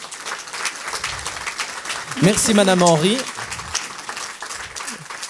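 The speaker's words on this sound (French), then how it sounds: "Ça mérite quand même quelques applaudissements." Audience applause after a question-and-answer session at a public health talk on Alzheimer's disease, steady clapping throughout, with someone speaking briefly over it in the middle.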